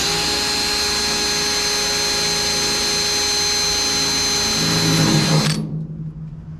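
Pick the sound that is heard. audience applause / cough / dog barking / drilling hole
drilling hole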